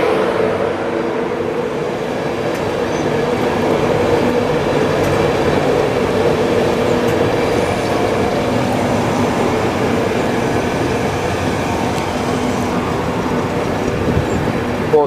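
A Virgin Trains East Coast Class 91 electric train passes through Stevenage station on the East Coast Main Line, a loud, steady, continuous rush and rumble of rolling wheels and carriages, with no talking.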